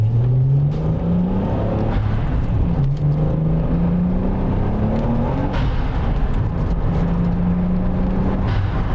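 A Nissan Skyline GT-R fitted with a UniClutch twin-plate clutch is driven briskly from inside the car, its engine rising through repeated revs and gear changes in a steady, close drone with no talk.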